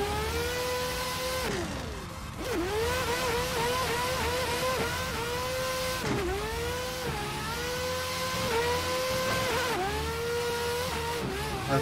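Nissan Skyline R35 engine in Assetto Corsa, loud and close, revving through repeated rising sweeps with gear-shift dips, steady drone throughout and no talk.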